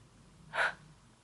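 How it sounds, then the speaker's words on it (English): A single deep inhalation, close and fairly loud, a short breathy rush lasting about a quarter second in an otherwise quiet room. "Ooh, take a deep breath."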